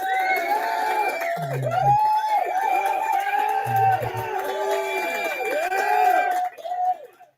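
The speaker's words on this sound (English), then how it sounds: "So let me give you a round of applause." A crowd cheering and whooping, played as a round of applause on a radio show, with shouting voices over clapping that fades out near the end.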